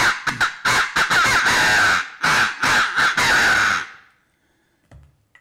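A hunting call imitating a crow gives a rapid string of loud, raspy caws in quick bursts, close and dominant, then stops abruptly, leaving near silence with a faint click.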